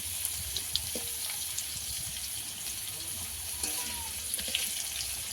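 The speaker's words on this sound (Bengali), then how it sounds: "আলুটা আমি এমন করে ভাজবো যেন আলুটা পুরো সিদ্ধ হয়ে যায়" Potato pieces fry in oil with turmeric, a steady low hiss of sizzling with faint crackles and occasional light clicks, continuous and fairly quiet throughout.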